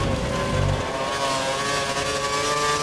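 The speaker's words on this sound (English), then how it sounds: "Oh god, this engine does sound" A Lotus Formula 1 car engine revs hard in the F1 2013 video game, a loud, continuous high-pitched whine at steady pitch filling the whole stretch with no speech over it.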